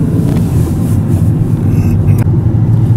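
A car passes outdoors, a broad low rumble with wind noise that swells slightly and fades, with no talking.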